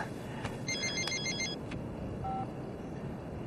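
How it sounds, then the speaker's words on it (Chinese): A mobile phone rings indoors, a short burst of quiet electronic ringtone notes followed by a faint beep, fairly distant against a low room background. "哎，你的电话。"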